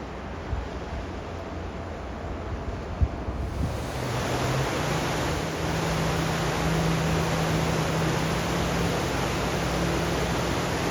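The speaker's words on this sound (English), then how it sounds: "I don't want to fall in that river. The current looks crazy strong." Strong river current rushing along a hiking trail in West Virginia or Maryland, heard as a steady, loud broadband roar that swells after a few seconds and continues without a break, with no voices.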